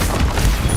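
An Incendio fire spell bursts in the Hogwarts Legacy video game, a short, loud, booming whoosh of flame that fills the whole moment with heavy low rumble.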